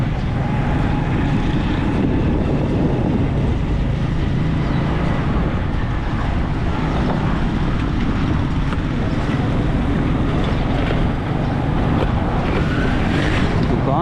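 Street traffic in Surjani Town, Karachi, near mechanics' shops: a loud, constant roar of passing engines and road noise with no letup, close by.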